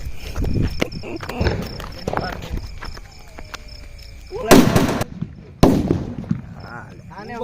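Two loud, sharp firecracker bangs burst out during Diwali celebrations, close by and separated by about a second. Voices and outdoor activity fill the space before and between the blasts.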